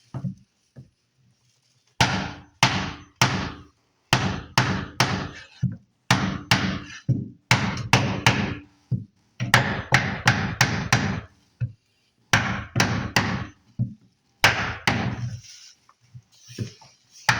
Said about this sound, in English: Beat block it down. That means beating some more.